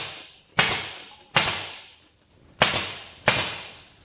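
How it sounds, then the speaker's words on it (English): A handheld staple gun fastens insulation paper to pole barn walls with four sharp, close snaps at uneven intervals. Each crack dies away quickly before the next. "I shoot a staple every so often"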